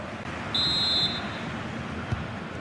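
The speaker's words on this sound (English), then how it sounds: "The whistle sounds, and the second half gets going." A referee's whistle starts the second half of a football match, one clear, sustained blast of about half a second over a steady crowd murmur.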